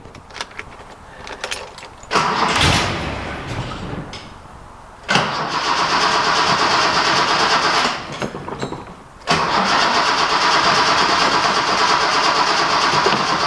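A Datsun 240C low on fuel cranks and catches, runs roughly, dies, then is restarted twice, each start a loud burst that settles into a close, steady engine run.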